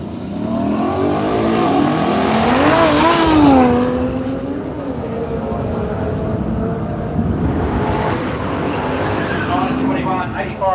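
Drag race run at Willowbank Raceway with a Ford XD ute and a late model Mustang 5.0, loud engines revving and roaring with a rising whine and a brief tire squeal, under a commentator talking throughout.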